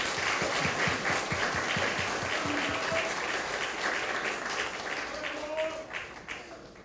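An audience at a book concert applauds with steady, dense clapping that runs for several seconds and fades toward the end. A faint voice comes through underneath.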